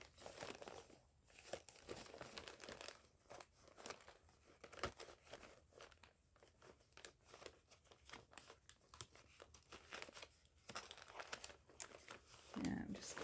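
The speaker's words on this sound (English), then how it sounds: "I'm just digging around a bit of coffee dyed paper" Scraps of coffee-dyed paper being dug through and crinkled by hand, a close, quiet run of irregular rustles and crackles with short pauses throughout.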